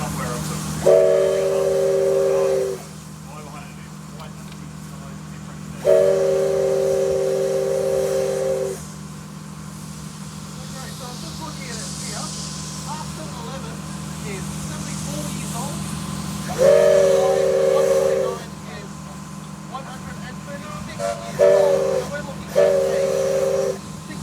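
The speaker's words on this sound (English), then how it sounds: "R711 being probably one of our youngest locomotives" SteamRail Victoria's R711, a broad gauge steam locomotive at the Newport Workshop, sounds several loud sustained whistle blasts over a constant steam hiss and low rumble, with a voice speaking faintly in between.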